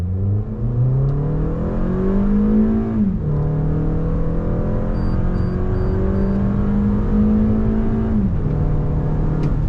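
Toyota RAV4 compact SUV pulling away from a stop, engine note climbing steadily through two upshifts with dips at each change, loud and close from inside the cabin, no talking.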